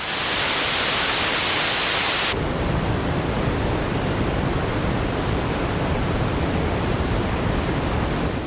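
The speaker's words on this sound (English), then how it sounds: "Pink noise is already filtered and do not produce those really high frequencies that white noise does." A steady, hissing wash of synthesizer pink noise that turns darker and softer after a couple of seconds, continuing as a smooth, even rush without pauses.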